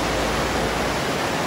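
Waterfall at Na'ili'ili-haele on Maui, Hawaii, a loud, dense, continuous roar of falling water with no breaks, close by and filling the whole sound.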